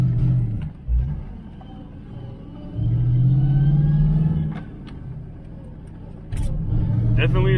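A Ford Fox body coupe driving down a road, heard from inside as a steady low engine rumble that swells twice into louder revving surges before settling back.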